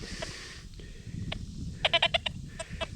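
Short electronic beeping tones from a Deus 2 metal detector with an eleven-inch coil, a quick cluster of several chirps followed by a few scattered ones over low background rumble.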